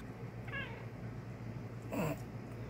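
Pet cats give two short meows at home, one brief and one a little louder near the end, over a steady low background hum with no talking.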